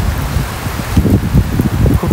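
Heavy rain falling on a rooftop, loud and close, a dense continuous patter with no talking.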